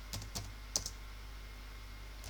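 A handful of quick keystrokes tap on a computer keyboard while a value is entered into a program, a few close clicks grouped near the start and then mostly quiet, with no one speaking.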